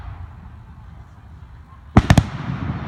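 Fireworks at a country club display in Elmsford, New York, a sudden cluster of three sharp close bangs after a stretch of quiet outdoor background murmur.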